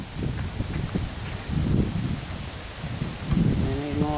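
Steady rain falling outdoors in January, a dense, continuous wash of patter with low rumbling swells, fairly close and moderately loud throughout, no talking.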